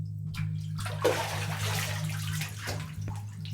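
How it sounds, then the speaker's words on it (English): Household bathtub filling from the tap, a steady rushing hiss of running water under a low electrical hum, with a couple of brief knocks. "Tub's almost full, Dad, he replies after a distracted pause."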